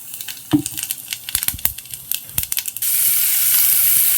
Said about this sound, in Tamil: பட்டை கிராம்பு இதெல்லாம் எடுத்து வச்சுருக்கேன் பாருங்கள் கல்பாசி இந்த விரிஞ்சி எல்லாம் எடுத்து வச்சுருக்கேன் சோம்பு எடுத்து வச்சுருக்கேன் இதை போட்டு இப்போ தாளிக்க போகிறேன்